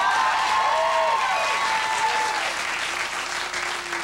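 Studio audience at a 1998 late-night New York talk show bursts into steady, loud applause that fills the room, with a few whoops and voices rising over the dense clapping.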